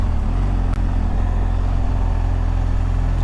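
Loud, steady engine drone and road rumble from a motorcycle being ridden, recorded close on the bike with constant wind noise and a brief thump near the start.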